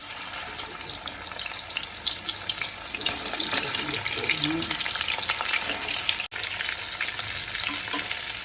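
Salted, turmeric-rubbed fish head frying in hot mustard oil, a steady loud sizzle filling the whole stretch with occasional stirring scrapes and one brief cut near the end.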